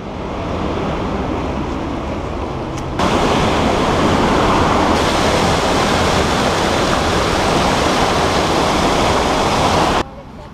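Treated water pours off the secondary clarifiers at a wastewater treatment plant, a loud, dense, continuous roar that steps up in strength after a few seconds and holds steady until near the end.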